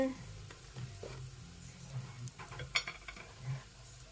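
Roti frying in oil in a pan makes a soft, steady sizzle, with faint scraping and light clinks of utensils, while quiet voices come through now and then.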